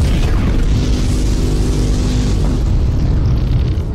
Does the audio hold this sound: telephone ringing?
no